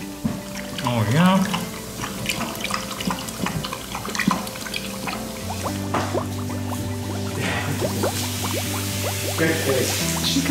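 Water runs and splashes steadily from a tap rinsing a Newfoundland dog, with people talking over it and occasional squishy sounds.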